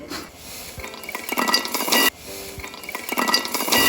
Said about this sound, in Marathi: आता आपण हे मिक्सरच्या भांड्यामध्ये काढून घेऊयात